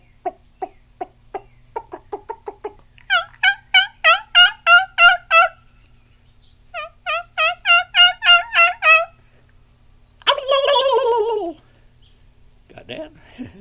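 A voice imitates a wild turkey gobble in southeast Georgia woods, loud and close: a run of short yelps building into rapid rolling gobbles, repeated in two bursts and ending in a long warbling gobble.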